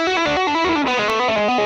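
Electric guitar played loud and close through heavy distortion, notes sustaining and sliding between pitches in a continuous saturated line with no talk.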